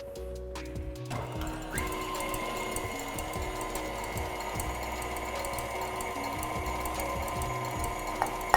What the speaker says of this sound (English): turn the machine on while we add this mixture